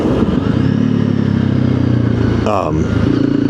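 A Honda CRF300L fitted with a Stage 1 ECU rides nearby with a steady, throaty engine drone, a brief clattering burst partway through, and a voice talking over it.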